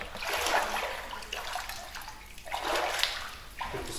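Water pours steadily into a baptism tub during a church baptism, a close, continuous rushing splash with swelling surges and no talk.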